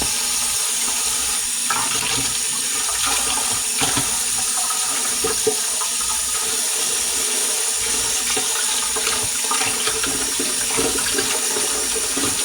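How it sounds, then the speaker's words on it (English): Water runs steadily from a tap while a pot that held chili is washed out in a sink, a loud, continuous rushing splash with no talking. "Wash this chili out"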